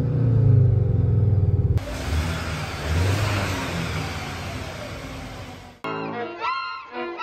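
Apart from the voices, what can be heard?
Skoda Octavia RS 2.0 TSI DSG engine revving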